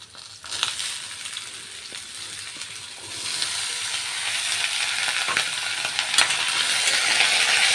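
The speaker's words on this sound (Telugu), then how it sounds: "ఆనపకాయ ముక్కలు వేసుకుందాం." Bottle gourd pieces dropped into hot tempering in a pan, a brief clatter followed by a rising, steady bright sizzle that grows louder and stays continuous, with a few scraping stirs and no speech.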